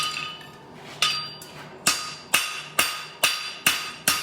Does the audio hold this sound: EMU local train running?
no